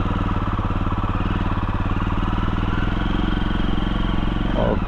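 A Jawa Perak bobber motorcycle's engine runs steadily and loud up close, a continuous throbbing idle with a rapid, even pulse and no break throughout.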